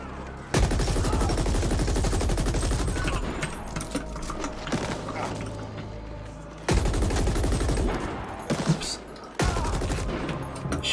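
Sustained automatic gunfire from a machine gun in the sci-fi shooter The Ascent, loud and dense, with bursts breaking off and restarting several times.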